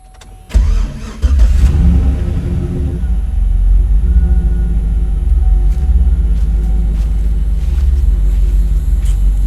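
A car engine cranks and catches after a new gas cap is fitted, with a short starter burst followed by a second crank, then a steady, close, loud idle rumble running alone to the end.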